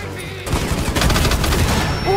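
Rapid gunfire from a first-person shooter video game rattles out in loud, dense bursts that overlap almost continuously after a brief opening moment, with a faint electronic tone near the end.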